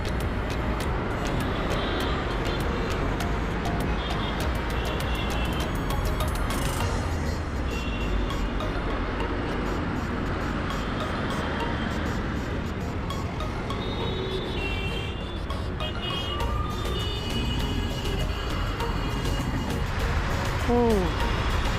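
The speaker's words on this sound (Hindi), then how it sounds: "मुंबई की ट्रैफिक" Busy Mumbai road traffic in Andheri keeps up a dense, continuous rumble of engines, with several horn toots standing out near the end.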